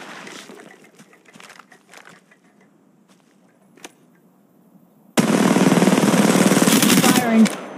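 Apex Legends Mobile gunfire, a dense, loud sustained burst of rapid automatic shots that starts abruptly after quieter scattered noises and a single sharp crack, then cuts off.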